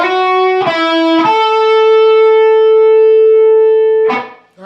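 Electric guitar lick, played slowly with a couple of quick picked notes, a slide into a long sustained ringing tone, and a final struck note, solo and up close.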